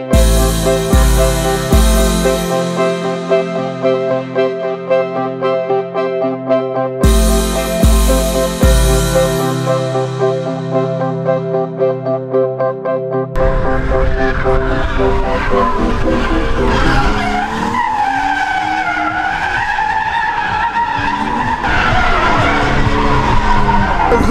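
A BMW with a stock 2.5 engine drifts at a WOŚP charity event in Kęty. Repeated engine revs rise and cut off abruptly, then tires squeal long and loud amid a roaring engine, heard close.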